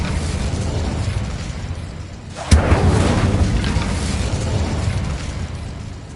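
An Incendio fire spell cast in Hogwarts Legacy bursts out as one sharp, loud whoosh-boom midway, then trails into a sustained roar over steady background noise.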